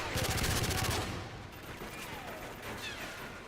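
Rapid MP5 submachine gun fire in Call of Duty: Modern Warfare 3, a close, loud burst of quick shots lasting about a second, then fading into echoing battle noise.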